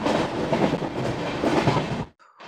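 The Uttarbanga Express passenger train running at about 100 km/h between Cooch Behar and Sealdah gives a loud, continuous rumble with rhythmic wheel clatter, heard up close from onboard, before it cuts off abruptly near the end.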